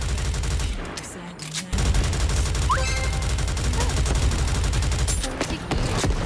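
Artillery fire in the NIKKE video game roars as dense, loud, continuous bursts of rapid shots, broken by a short lull, with game sound effects and a voice mixed in.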